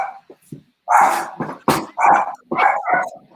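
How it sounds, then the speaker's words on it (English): A guard dog barks outside, a series of loud, irregular barks and yips in quick succession, fairly close, with no talking over them. "My guard dog Sullivan's putting up a fuss out there"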